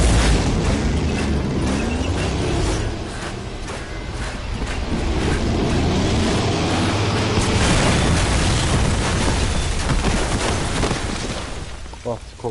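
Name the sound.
explosions in a video game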